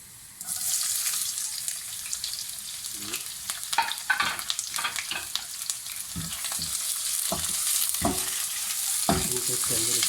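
Red bell pepper stir-fried in a hot pan for a restaurant-style chow mein: a steady loud sizzle runs throughout, broken by scraping and clattering as the vegetables are tossed and stirred.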